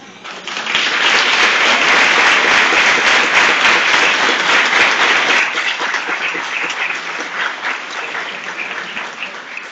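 A crowd at a public discussion event applauds loudly and steadily, with sustained, dense clapping that swells in quickly, holds for several seconds, then gradually thins out toward the end.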